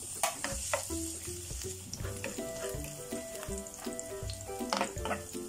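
Garlic fries in a pan for sautéed mustard greens with sardines, a loud close sizzle and crackle with stirring clicks, while a melody plays in the background.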